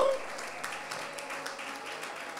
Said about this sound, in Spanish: Si usted quiere darle aplausos al Señor, creo que sería mejor.